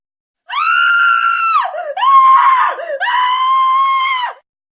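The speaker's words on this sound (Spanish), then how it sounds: "gritó despavorida" A young woman screams in terror in a dramatized Japanese urban legend, three long loud sustained shrieks with a brief wavering break between them, close and alone.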